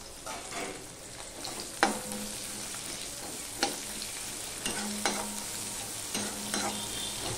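Five green chillies frying in hot oil, with onion, for a Bengali hilsa fish curry: a continuous loud sizzle broken by several sharp scraping stirs of a spatula against the pan, with no voices.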